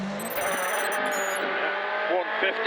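A left-hand drive Ford Fiesta rally car at full throttle on a rally stage, its engine droning loud and steady with rising and falling revs and brief tire noise, under a co-driver's pace-note calls.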